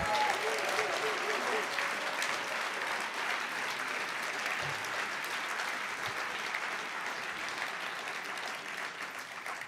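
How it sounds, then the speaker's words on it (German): A symposium audience applauds a speaker in a hall, with steady, dense clapping sustained for about ten seconds and a faint voice briefly audible at the start. "Applaus"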